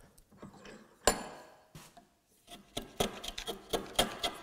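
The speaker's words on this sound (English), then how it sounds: "tons more resistance to my chisel" A hand chisel pares a wooden tenon, giving close, irregular scraping and rasping cuts with one sharper knock early on and a busier run of short strokes toward the end, with no talk.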